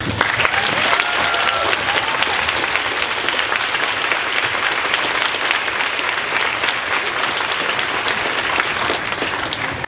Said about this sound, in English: please rise for a big round of applause